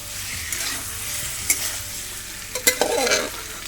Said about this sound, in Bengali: মশলাটাকে একটু কষিয়ে নিয়ে ভেজে রাখা আলুগুলো দিয়ে দিলাম